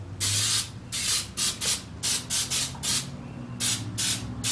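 Short hissing bursts from a can of cooking spray, about a dozen quick sprays in an uneven rhythm, close and fairly loud with no talking.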